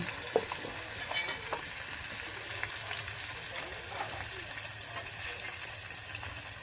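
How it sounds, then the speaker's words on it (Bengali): Koi fish frying in oil over a clay stove, a quiet, steady sizzle with occasional faint crackles and a soft knock, heard from a little distance without talk. "তো মাছটা একটু ভালো সুন্দর করে ভাজতে হবে।"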